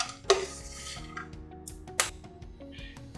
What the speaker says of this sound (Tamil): இதை நம்ம இப்போ ஒரு வேறு பாத்திரத்தில் மாற்றிக்கலாம்